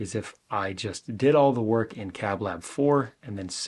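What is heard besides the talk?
None of the usual background noises is heard.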